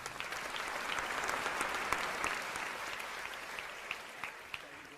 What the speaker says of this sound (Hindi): चलो अब धर्मेंद्र भैया के लिए पुनः तालियां।